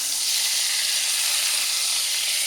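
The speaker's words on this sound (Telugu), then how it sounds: "సొరకాయ ముక్కలు వేయించుకోవాలండి ముందు" Bottle gourd pieces fry in a hot pan for bagara rice, giving off a steady, bright sizzling hiss with no breaks throughout.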